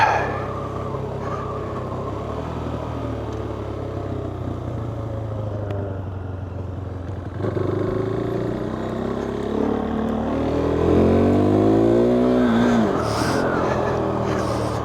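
KTM 390 Duke single-cylinder motorcycle engine under way, a steady droning hum with wind rush that swells louder after a few seconds, then rising revs and a sweeping pitch change near the end, with no talk.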